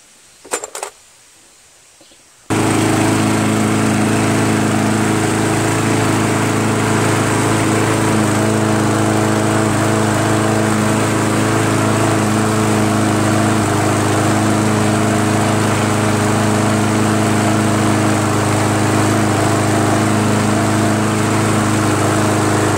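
A Yard Machines 190cc 21-inch push lawn mower, a salvaged curbside find with a bent blade, starts after a few seconds of quiet handling noises and then runs steadily and loudly at a constant drone close by.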